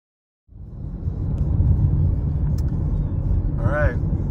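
A car drives along a road near Eureka Springs and Beaver Dam, giving a steady close engine and tire rumble that starts abruptly and holds, with a brief higher whine near the end.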